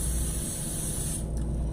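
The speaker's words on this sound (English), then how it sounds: "I just wanted to spray it with some olive oil." Olive oil spray hisses steadily onto vegetables, including chopped onions, in one close continuous burst that stops after about a second, followed by quiet.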